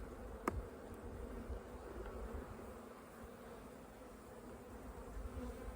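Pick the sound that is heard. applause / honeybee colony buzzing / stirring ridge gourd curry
honeybee colony buzzing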